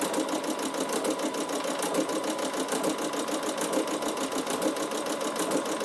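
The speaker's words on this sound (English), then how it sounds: "I can see exactly where I'm sewing on that same row of stitching" Bernina sewing machine stitching with a ruffler foot, a steady, fast mechanical whirring with rapid rhythmic clicking of the foot, loud and close throughout.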